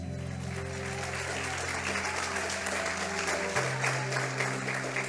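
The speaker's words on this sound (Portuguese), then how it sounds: "aplauda Ele" A church congregation applauds steadily through a worship service, a dense wash of clapping over a sustained low organ or keyboard chord that shifts pitch partway through.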